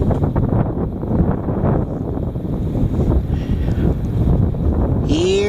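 Heavy wind roars continuously, buffeting the microphone with a dense, low, rumbling rush that never lets up across the whole stretch.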